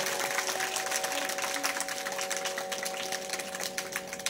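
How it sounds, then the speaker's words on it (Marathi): An audience at a devotional Gajanan Maharaj story gathering claps in a sustained, dense ripple of applause that stays moderately loud and even for the full few seconds, heard alone without voices. "टाळ्या वाजवायच्या"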